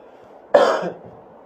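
A single sharp cough bursts out suddenly, close and fairly loud, then trails off into quiet.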